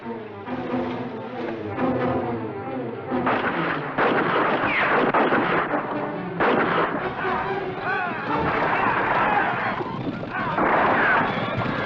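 A western battle blares with heavy gunfire, rapid shots and booming blasts close and loud, with shouting voices mixed in the chaos.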